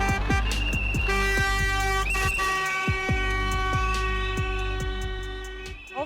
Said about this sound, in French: un concert de sifflets et de klaxons.